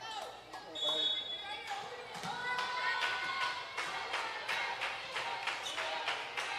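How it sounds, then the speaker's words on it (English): Crowd cheers and claps for the Highlanders during a community college volleyball match, a steady roar rising over repeated sharp ball impacts, with an announcer talking over it. "Crowd trying to pump up the Highlanders."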